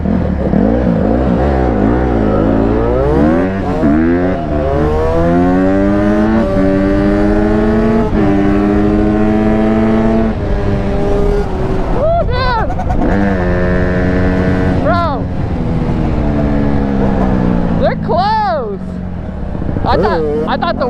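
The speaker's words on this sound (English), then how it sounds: "I'm about to race the Suzuki 85" Suzuki RM85 and Honda CRF150 dirt bikes drag racing, engines revving loud and continuous with rising, shifting pitch sweeps as they pull away, voices talking over the roar throughout.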